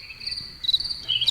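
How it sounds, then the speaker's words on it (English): Crickets chirp in a steady high trill close by, a few overlapping insects pulsing quietly with no voices. "I don't know where the crickets are."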